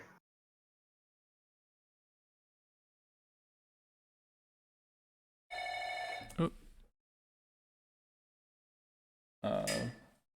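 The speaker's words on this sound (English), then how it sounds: "Someone buzzed their flat, and it's a very loud phone." A very loud telephone rings indoors when a flat's door buzzer is pressed, two separate loud bursts of ringing separated by several seconds of silence.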